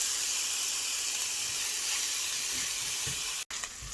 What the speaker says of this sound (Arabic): هلا أنا حطيت زبدة، بدي أحط الدجاج